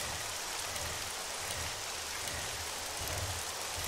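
Rain in the survival video game 7 Days to Die during cold weather near a lake, a constant broadband hiss of falling water with low rumble underneath, no speech.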